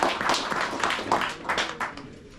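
An indoor audience at a muskie fishing seminar claps to welcome a guide to the stage: a steady, moderately loud patter of many hands, dense and continuous, fading slightly toward the end.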